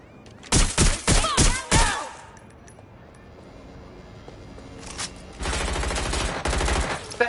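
Sharp gunshots ring out in Watch Dogs Legion, a quick volley of four or five loud cracks followed by a pause, then a sustained burst of heavy rapid fire near the end.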